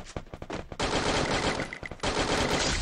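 Rapid gunfire bursts in a mobile squad shooter video game, loud repeated automatic shots with brief gaps between volleys, heard alone without talk.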